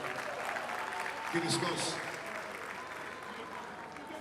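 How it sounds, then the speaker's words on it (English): An awards-ceremony crowd at a Nigerian event applauds for Gbenga Adeyinka, a steady wash of clapping under a speaking voice that carries across the whole stretch. "Gbenga Adeyinka, a round of applause for him, please"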